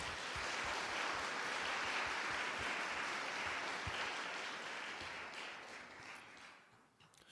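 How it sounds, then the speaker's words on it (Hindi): A church congregation claps during a sermon, a sustained wash of dense applause that holds steady, then tapers and fades near the end. "तालियां बजाएं"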